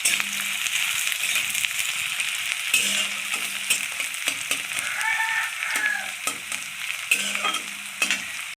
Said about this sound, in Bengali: এই যে কুচানো লঙ্কা কটা দিয়ে দিচ্ছি।